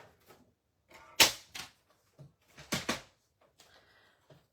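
Paper is cut into a one-inch strip in a card-making session, heard as a few sharp, close snips and rustles spread irregularly between quiet gaps.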